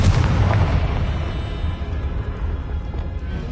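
A Bombarda or Confringo spell detonating in the video game Hogwarts Legacy, a loud booming explosion at the start followed by a rumbling tail that slowly fades, with no talk.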